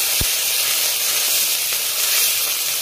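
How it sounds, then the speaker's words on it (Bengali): A spice paste of chili, ginger, cumin and coriander fries in hot oil on a high flame with a loud, continuous sizzle and hiss. A brief low knock sounds near the start. "আমি লঙ্কা বাটা দিলাম, আদা বাটা, জিরা ধনিয়া বাটা, মশলাটা ভাজবো।"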